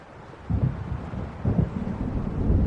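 Low rumbling storm noise with wind gusts and distant thunder swells in the game Alan Wake, a steady roar with two louder surges, no talk.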